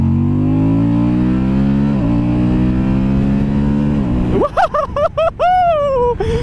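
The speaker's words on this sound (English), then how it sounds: "40 to 80 pull on a 2023 Moto Guzzi V100 Mandello" A 2023 Moto Guzzi V100 Mandello motorcycle pulls hard from 40 to 80, its engine note climbing steadily and loud, then rising through several quick gear changes with brief dips between each shift.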